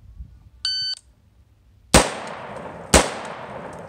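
Two sharp, loud carbine gunshots about a second apart during a close-range home-defense headshot drill, each with a short ringing tail, preceded by a brief electronic shot-timer beep.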